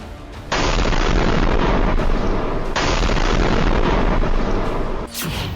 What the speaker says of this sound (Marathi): अमेरिकेचा इराणच्या खर्ग बेटावर बॉम्ब हल्ला।